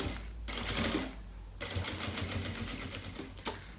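A sewing machine runs in steady bursts as it stitches a fabric lining, its rapid mechanical whirr pausing briefly and then starting again, close and clear.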